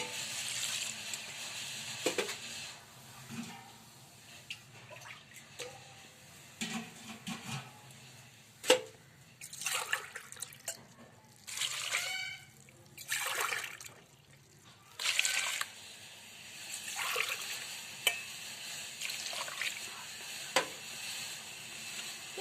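Water poured into a pot for drumstick leaf soup in a home kitchen, faint intermittent splashing and trickling bursts with quiet clinks between pours.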